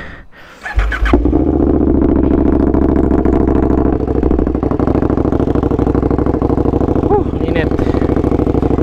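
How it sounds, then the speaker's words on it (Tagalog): KTM Superduke 1290 R motorcycle fitted with new Evotech parts starting up, then settling into a loud, close, throbbing idle that holds steady for several seconds, with a few faint shifts in pitch. "maririnig ko na naman yung motor mo"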